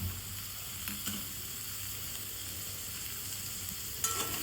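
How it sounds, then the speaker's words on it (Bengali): Onions frying with mustard greens in a pan on the stove: a steady, close sizzle runs throughout, with a couple of faint knocks from stirring. No one speaks. "এবার কিছু পেঁয়াজও দিয়ে দেব।"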